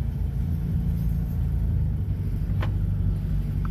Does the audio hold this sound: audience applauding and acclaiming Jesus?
no